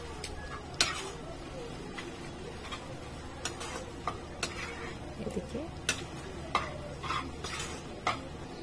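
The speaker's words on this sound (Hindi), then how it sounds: "देखिए इस तरह से हम इसे अच्छे से इसमें फ्राई करके ले लेना है।" Ginger garlic paste frying with chicken masala in a pan, stirred with a utensil: faint, close sizzling under repeated light scrapes and clinks against the pan at an uneven rhythm, with quiet talk in the background.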